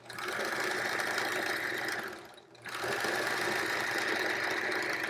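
A sewing machine stitches triangle quilt pieces in a steady, close hum, briefly pausing near the middle before running on again.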